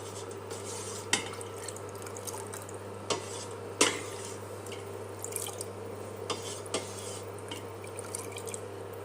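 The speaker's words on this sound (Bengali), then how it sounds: "এই তো চালগুলোকে ভালোভাবে ধুয়ে নিলাম" Rice being washed in water for payesh, with soft wet sloshing, drips and a few sharper clinks against the bowl, steady and close with a low hum underneath and no talk.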